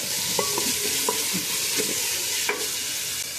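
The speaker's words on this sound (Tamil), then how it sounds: "பொடியாக நறுக்கின வெங்காயம் சேர்த்துக்கோங்க" Finely chopped onions sizzling in hot oil with mustard seeds, urad dal, fenugreek and cumin for a salt fish curry, a steady close frying hiss broken by several sharp clinks of stirring.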